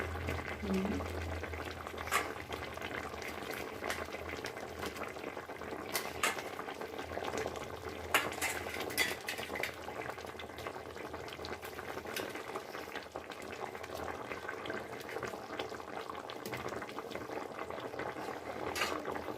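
Fish go into a pot of boiling water on a home stove, a steady close bubbling and simmering with faint stirring and splashes throughout, low and even in level.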